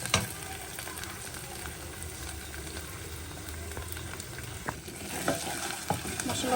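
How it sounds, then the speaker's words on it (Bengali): Dry spices and ginger-garlic paste fry in hot oil in a pan, a steady, dense sizzle with scraping stirring strokes throughout, close and fairly loud with no talking. "এখন আমি শুকনো মশলাগুলো দিয়ে দেব। যেখানে আদা রসুন সব বাটাটা আছে। নাড়াচাড়া দিয়ে নিই।"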